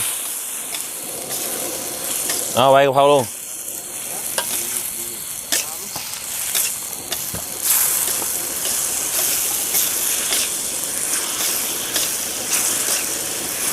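A home stir-fry pan sizzles and hisses steadily after water is poured in, turning the dish into a soup, with clattering stirring and a brief voice over the cooking.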